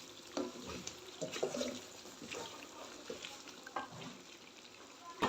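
Chicken karahi sizzles steadily in a pan while a spoon scrapes and stirs it in irregular strokes, close and moderately loud, with no talking.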